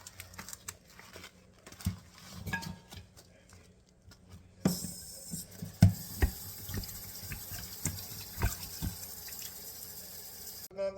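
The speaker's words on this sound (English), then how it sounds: "Now that I've rinsed them off with lemon and change the water" Beef neck bones are washed in lemon water in a kitchen sink, with scattered splashes, drips and a tap running faintly. The sloshing and clatter grow busier partway through.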